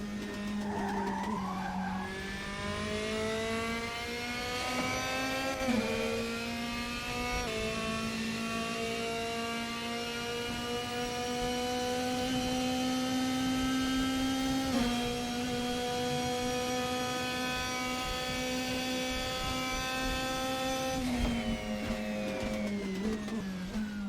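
A DTM 2016 race car engine in the sim racing game RaceRoom Racing Experience screams steadily at high revs with DRS open uphill, brief gear-shift dips, a continuous synthetic-sounding roar close up throughout.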